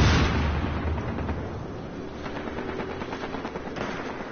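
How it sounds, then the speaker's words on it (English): A grenade blast and rapid gunfire in the video game Battlefield Hardline: a loud opening burst that fades into a dense, steady rattle of shots and distant explosions. "That's a grenade!"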